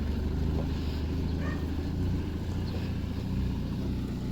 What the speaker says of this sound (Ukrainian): Це ж такий трактор у Славка вузенький.